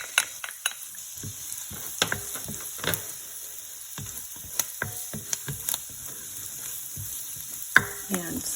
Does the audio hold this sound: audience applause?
no